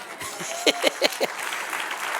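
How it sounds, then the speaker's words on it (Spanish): Applause from a church congregation during a New Testament history class, a steady wash of clapping with a few sharper bursts near the middle, moderately loud throughout. "Dale un aplauso al Señor."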